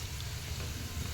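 Onions frying in hot tempering oil for a bean fry give a brief, steady, close sizzle, a dense even hiss with no talking.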